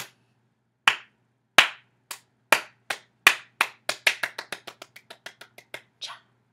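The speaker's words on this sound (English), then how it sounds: "Just like to give a slow clap for Raw." A single person claps slowly and deliberately, sharp isolated hand claps in a quiet room that gradually quicken into a faster, lighter patter before one final clap.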